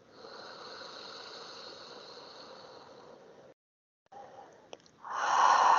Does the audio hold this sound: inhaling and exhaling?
yes